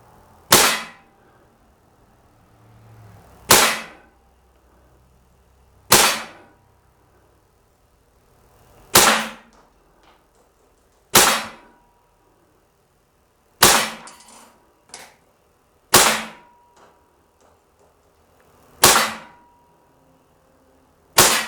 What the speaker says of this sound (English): So we'll just keep it. We'll just fire 10 rounds.